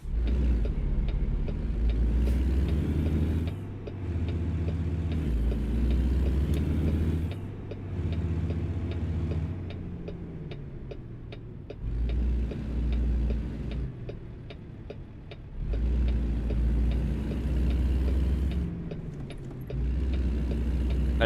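A heavy truck crawls along in its crawler gears in American Truck Simulator, its engine droning low and steady with a rhythmic ticking running through it, the note dropping out briefly between stretches of running.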